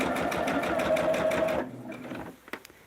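A sewing machine chain-stitches quilt pieces along a marked line with a fast, steady mechanical whir that stops abruptly partway through, followed by a few faint clicks and handling sounds.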